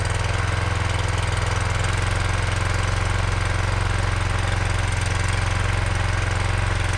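An off-road Wallenstein LXT95 log loader trailer's engine idles steadily while warming up, a loud, continuous low rumble with an even mechanical knock throughout, heard alone without talk.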